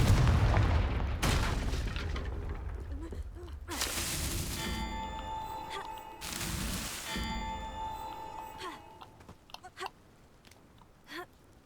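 Confringo explosive spell in Hogwarts Legacy: several heavy booming blasts in close succession, loud and near, followed by crackling debris and fading magical shimmer.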